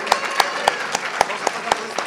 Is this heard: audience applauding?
yes